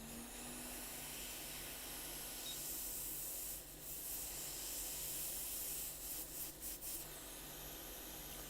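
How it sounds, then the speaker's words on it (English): A hot air tool blasts jammed solder balls out of a circuit board stencil, making a steady, close, broadband hiss that runs throughout with a few brief dips and flutters near the end; no one speaks. "Now the stencil I gotta blow out with hot air because there's balls all jammed in there"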